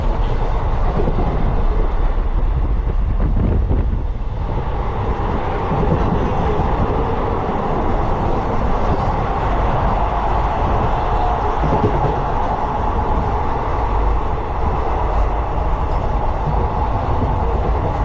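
A train on the Belagavi to Karur run rumbles along at speed, heard from on board as a loud, unbroken roar with faint rail clatter and no voices.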